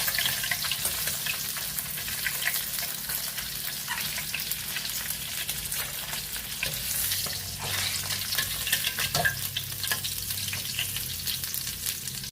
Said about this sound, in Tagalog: Check natin yung ating pritong isda.